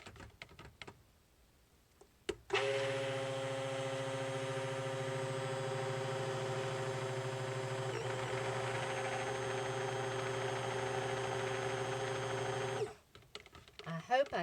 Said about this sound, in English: I like the quietness of this stick blender